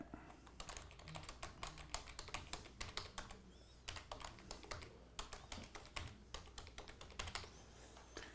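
Steady typing on a computer keyboard, quiet and close, with rapid irregular key clicks in quick bursts and short pauses throughout, no voices.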